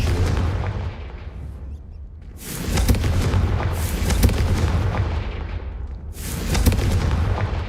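Heavy booming blasts of a Confringo fire spell in Hogwarts Legacy, two long rumbling explosions with a dull gap between them.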